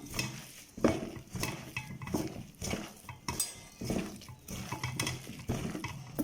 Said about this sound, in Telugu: ఇప్పుడు ఈ పిండిని మనం బాగా మిక్స్ చేసేసుకుందాం.